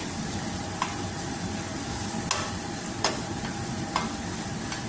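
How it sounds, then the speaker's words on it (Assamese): Duck meat with garam masala fries in a pan, a steady broadband sizzle running throughout with a few sharp spatula scrapes and stirs marking the rhythm, close and alone with no voices. "দি পেলাই এতিয়া অকণমান সময় ভাজিম।"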